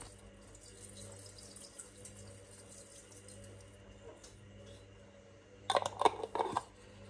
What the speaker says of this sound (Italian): Metto dell'acqua e aggiungo di semi di lino e la lascio bollire.